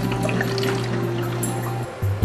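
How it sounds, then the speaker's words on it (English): A water dispenser near cooling vents bubbles and gurgles, with a steady low hum running underneath before a short gurgle near the end, with no voices. "No, that's a water dispenser."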